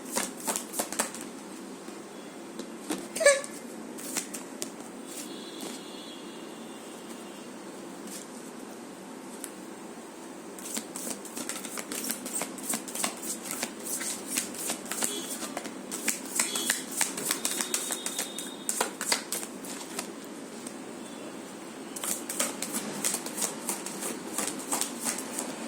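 Tarot cards being shuffled by hand, soft papery riffles and flicks in bursts, close and fairly quiet over a low steady background hum.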